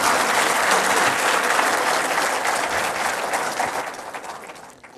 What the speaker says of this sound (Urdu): جن کے لیے بہت زوردار تالیاں لگیں